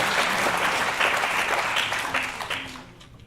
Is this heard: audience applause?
yes